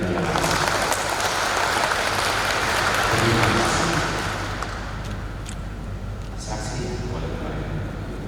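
Applause from a church congregation at a wedding blessing in Santa Maria church, Kampung Pinang, filling the space as a steady, dense wash that swells then eases slightly, with voices mixed in.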